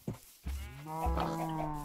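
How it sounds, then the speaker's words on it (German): Sheep in the video game Minecraft giving a short quavering bleat, heard after a couple of brief soft sounds, close and clear. "Und da hinten hast du mal ein Schaf."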